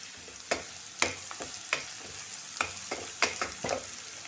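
Chopped onion frying in a pan for a Konkan-style Malvani matki usal, stirred with a spoon in a steady run of scraping strokes over a soft continuous sizzle, close and moderately loud, with no talking.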